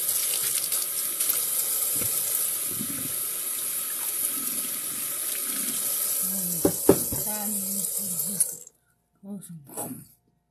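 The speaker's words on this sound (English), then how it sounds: "rinse it off again" Water runs steadily from a tap while something is rinsed off, a continuous hiss that cuts out near the end, followed by a few short knocks and movements.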